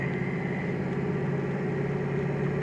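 A 6.0 Power Stroke diesel engine in a 2005 Ford Excursion idles steadily with a low, even rumble and faint clatter, continuous and close by.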